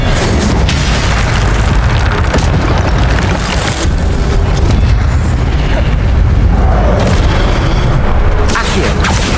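Incendio fire spell cast in the Hogwarts Legacy video game, a loud continuous blaze of booming fiery bursts and crackling roar with heavy low rumble, dense and unbroken throughout.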